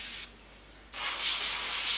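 An airbrush being cleaned out while painting a 1/72 Airfix Phantom FG1 model gives two close, sharp bursts of airy spray hiss, a short one and then a longer sustained one, split by a brief pause.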